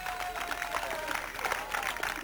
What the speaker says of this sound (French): On applaudit très fort les joueurs et les dirigeants